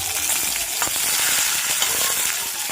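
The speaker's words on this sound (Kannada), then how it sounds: "ಈ ಎಣ್ಣೆಗೆ ಸ್ವಲ್ಪ ಕಸೂರಿ ಮೇಥಿ ಹಾಗೆ ಒಂದು 3 ಹಸಿಮೆಣಸಿನ್ಕಾಯಿ ಹೆಚ್ಕೊಂಡಿದ್ದೆ." Kasuri methi and three chopped green chilies hitting hot oil, a bright crackling sizzle that holds steady and close throughout, with faint spattering pops and occasional stirring, no speech.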